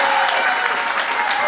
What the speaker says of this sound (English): Let's hear some applause for Jesus.